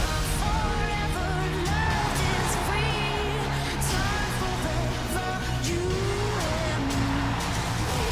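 A racing car engine revs hard in a loud, continuous roar with rising and falling pitch sweeps and tire squeal, all part of a busy commercial soundtrack with no pauses.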